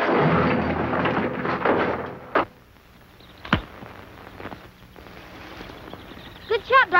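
A couple of sharp gunshots crack out in an old western adventure, Dark Cloud firing. Two distinct reports come a second apart after a stretch of busy talk and commotion, with voices returning afterward.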